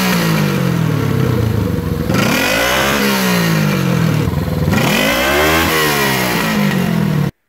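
A 1971 Honda CB350 motorcycle engine revs up and down, close and loud, its pitch climbing and falling in repeated sweeps with a clattery mechanical edge and no talking.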